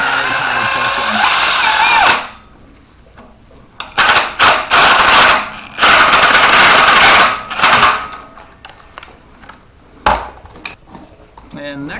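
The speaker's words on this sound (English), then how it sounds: "I'm going to get things tightened up here with the battery-powered torque." A battery-powered impact wrench tightens a bolt on a Chevy 5.3L LC9 engine in a Suburban. It hammers in loud, close bursts, then goes quiet between runs, with a sharp final rattle.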